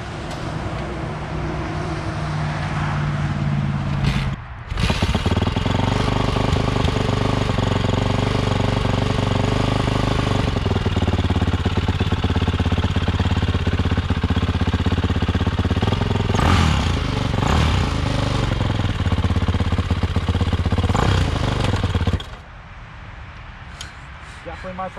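Tractor powered by a Yamaha YZ450F motorcycle engine roars loudly and steadily through a ride, with brief revving dips, after a short idle, then drops back to a quieter idle near the end; voices talk faintly underneath.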